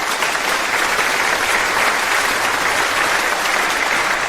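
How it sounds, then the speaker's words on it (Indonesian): Steady, dense applause from a crowd at a birthday celebration, sustained rapid clapping that holds evenly throughout without voices on top. "Sekarang mari kita sambut dengan tepuk tangan meriah kakek Chen naik ke panggung."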